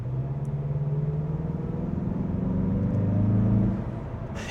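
2025 Mazda CX-30 with a 2.5 liter turbocharged 4-cylinder engine, heard from inside while driving: a steady low engine drone with rising whine that swells gradually, then eases off near the end.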